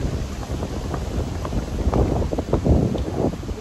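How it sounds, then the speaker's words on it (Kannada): Wind gusts outdoors in Sweden among autumn trees, rumbling across the microphone in rough, uneven buffets that swell louder toward the end, with faint leaf rustle. "ಗಾಳಿ"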